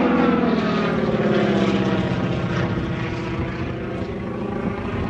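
A RAAF Winjeel propeller airplane roars close by during a flying display with a rough, buzzing howl from the propeller tips, the engine drone sweeping past and slowly easing off.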